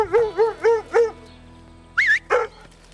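A New Zealand huntaway working dog barks close by in a quick run of four deep, evenly spaced woofs, then a pause and two higher yelping barks.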